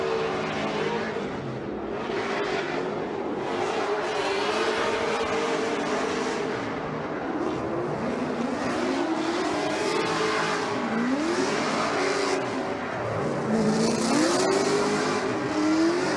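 A loud V8-swapped Nissan S14 drift car roars and revs continuously at a Formula Drift event in Seattle, pitch sweeping up and down as the car slides, with a dense crowd-like wash of noise behind it.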